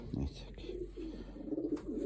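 Soft, low cooing from a sprinter racing pigeon rolls on in short repeated phrases nearby, with a voice mixed in underneath.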